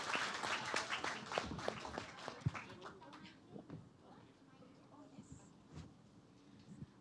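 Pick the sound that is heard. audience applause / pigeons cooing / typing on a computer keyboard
audience applause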